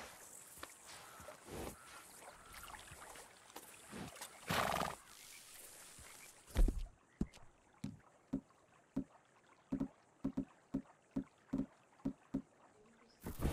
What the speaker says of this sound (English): Make sure we feed the horsey.